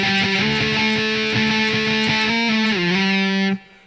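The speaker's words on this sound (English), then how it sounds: "you can choose to play one or the other guitar because there's 2 guitars playing" Distorted electric guitar plays octave chords from a song, a thick, saturated wall of sustained notes with steady picked pulses and a pitch slide near the end before stopping abruptly.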